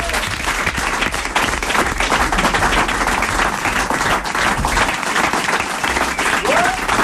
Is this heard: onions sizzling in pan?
no